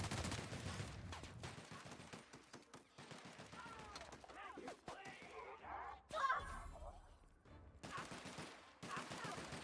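Gunfire in the video game The Outer Worlds, bursts of rapid shots and impacts scattered through a busy combat mix, with people talking between the volleys.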